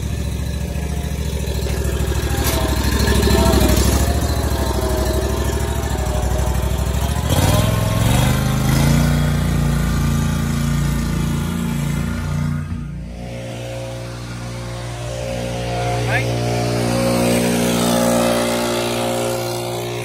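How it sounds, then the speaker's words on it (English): A lawn mower cuts centipede grass at a two-inch height, its engine a loud, steady close drone that shifts pitch and load as it moves across the lawn, with no talking. "This one is centipede grass, and we're mowing it at 2 inches."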